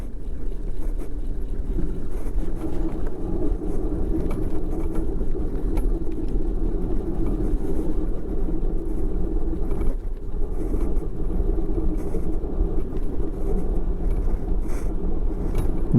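Homemade downhill coaster trike with no brakes rolling fast down a steep road, giving a steady loud low rumble of wheels on asphalt with wind noise throughout, close and continuous.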